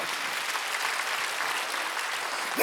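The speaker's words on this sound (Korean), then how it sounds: "박수 한번 주세요." A church congregation at a Sunday worship service claps together in steady, moderately loud applause, ending abruptly with a sharp knock.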